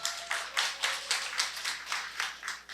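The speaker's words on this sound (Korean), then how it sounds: "자, 박수." A small audience at a book concert claps in a steady, even rhythm of roughly a dozen separate beats, moderately close and fairly soft, with no talking.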